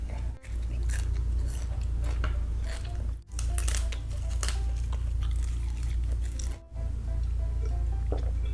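Crunchy vegetables chewed close to the mic alongside a bowl of beef noodle soup: steady, wet crunching bites that continue for several seconds, broken by a few brief pauses.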